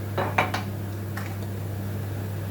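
A spoon clinks against a frying pan as pepper paste goes in with spinach that is cooking. There are two or three quick metallic taps up close, then a steady low hum with faint sizzling.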